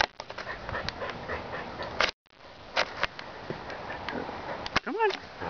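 Dogs on a possum hunt pant, sniff and whimper close to the microphone in rapid, uneven bursts. A man urges them on with short shouts, and one high yip rings out near the end.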